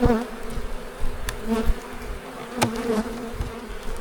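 Agitated honeybees buzz around an opened beehive on an early warm spring day, a dense close swarm drone that swells and dips, with individual bees zipping past.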